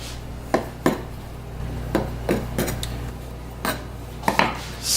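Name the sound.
utility knife cutting around pie crust excess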